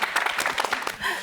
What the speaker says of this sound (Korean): 진심이 느껴질 때 박수 한번 좀 주세요